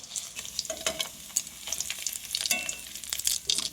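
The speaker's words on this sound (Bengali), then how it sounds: "এখন চিকেনটা আমি ফ্রাই করে নেব" Chicken sizzles and crackles in hot oil while a utensil stirs and scrapes the pan in quick, irregular strokes.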